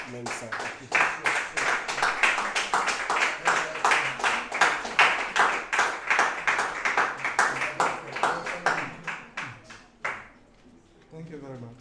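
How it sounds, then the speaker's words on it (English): An audience at a talk on women drumming in Northern Ghana claps in a steady, evenly spaced rhythm to welcome a speaker, fairly loud and sustained before stopping abruptly. "With a round of applause, please let's welcome Mr. Godfred Teye Mensah Akuffo."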